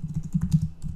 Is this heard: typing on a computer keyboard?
yes